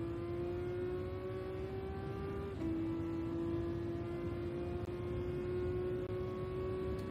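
Race car engine in Gran Turismo 7, a steady droning whine that drops sharply at one gear shift partway through, then holds and slowly climbs again, loud and alone.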